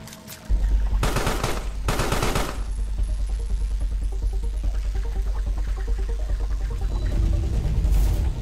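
Rapid gunfire in the video game Carrion pours out loud and nearly continuous, with heavier bursts early on and a steady rattling barrage filling the rest.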